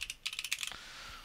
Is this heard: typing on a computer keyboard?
yes